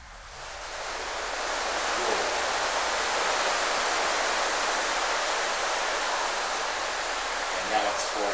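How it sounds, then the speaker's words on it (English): Heavy rain pours at night outside a house, a dense, even broadband hiss that swells in over the first couple of seconds and then holds steady and loud. "And now it's pouring out."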